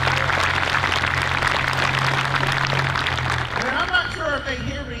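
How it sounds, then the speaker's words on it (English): A large outdoor crowd at a Marine Corps cake cutting ceremony applauds a military band in a stadium, dense and sustained at first and then thinning out, with a voice coming in over the tail end. "If I could get a round of applause"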